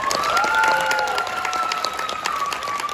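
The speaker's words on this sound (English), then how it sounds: "Clap your hands if you want to play." An audience at an anime convention opening ceremony in Los Angeles claps together, a dense, sustained wash of applause holding steady throughout, with a faint voice briefly above it.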